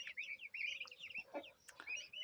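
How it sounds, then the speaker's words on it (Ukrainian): Young chicks in a poultry yard give rapid, high peeping chirps and soft clucks, close but faint, in short overlapping bursts. "Курчатка."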